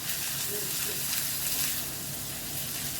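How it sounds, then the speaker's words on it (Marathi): Finely chopped onion sautéing in oil with cumin seeds in a pan, giving a steady close sizzle and hiss while a voice talks softly over it. "जिरं छान फुललं की त्यामध्ये कांदा आपल्याला परतून घ्यायचा आहे."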